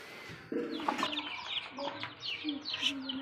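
Aseel hens and chicks cluck and cheep in quick, close calls, with a person's voice mixed among them.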